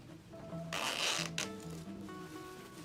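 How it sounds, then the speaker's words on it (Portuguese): A zipper is run closed along a sewn fabric maternity bag, a brief close rasping burst of zipping over faint tonal background music, with no talk. "encaixo o outro lado e fecho o zíper"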